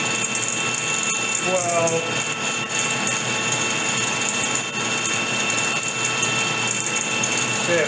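A chambering reamer feeds into a new barrel for a Winchester 70 Super Sport rifle on a machine. It makes a steady, dense mechanical whir and hum with faint ticking throughout. A voice speaks briefly over it.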